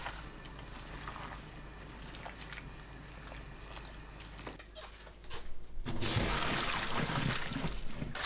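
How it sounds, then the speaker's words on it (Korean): Bangpung greens blanching about twenty seconds in boiling water salted with coarse salt: a steady low bubbling and trickle of water, growing louder and busier toward the end, with no talk. "방풍나물 넣고 20초 데칩니다."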